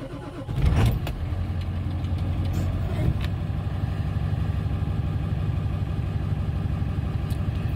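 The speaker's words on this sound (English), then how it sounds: "So let's start the truck." A Ford Powerstroke diesel truck engine cranks and fires, then settles into a steady, loud idle that rumbles on for several seconds, close to the listener with no talking.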